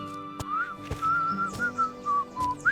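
A character whistles a wavering tune in the video game Might & Magic X: Legacy, in short melodic phrases with soft thuds and clicks between them.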